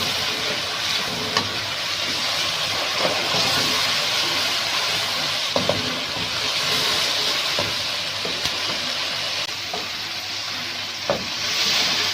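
Onion paste sizzling and frying steadily in a pan for a beef kofta curry, a continuous bright hiss with occasional stirring scrapes, close and fairly loud throughout.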